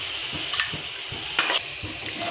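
Ginger garlic paste sizzles in a pan of frying onions, a steady hissing sizzle with a few louder crackling spurts, moderately close and without talk.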